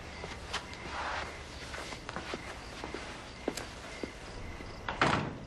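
An interior door in a home is opened and closed, with quiet clicks, footsteps and a firmer thud near the end, all faint and close against a soft room background.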